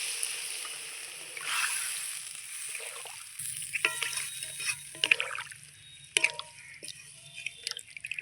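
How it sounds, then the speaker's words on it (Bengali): Water is poured into a simmering potato and taro curry to make gravy, a soft splashing stream followed by wet dripping and bubbling crackles from the pan, fairly close and quiet. "এবার আমি গ্রেভির জন্য জল দিয়ে দিচ্ছি।"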